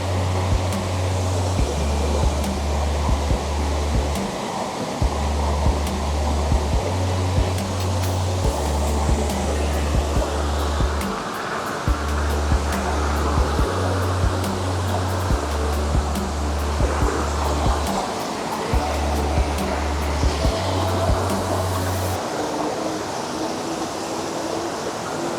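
Steady rushing water from a waterfall in the Great Smoky Mountains, a constant broadband roar that holds without pause, with a low intermittent hum layered underneath.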